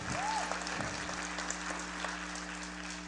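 Audience at an evangelical preaching event keeps applauding: a soft, continuous patter of clapping at a distance over a steady hum, with a brief vocal cry at the start.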